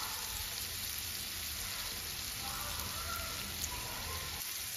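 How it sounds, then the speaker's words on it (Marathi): Onion sautés in a pan for a sprouted horse gram curry, giving a soft, steady sizzling hiss that stays faint and even throughout. "कांदा छान परतू दे।"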